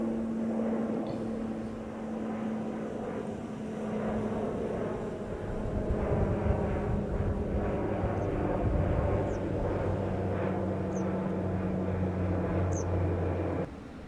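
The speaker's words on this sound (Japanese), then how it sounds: "お、飛行機飛んできました。" A fixed-wing airplane flies over Yonaguni Island's eastern cape in Okinawa, a steady low drone that swells and stays in the background over 14 seconds, with no talk.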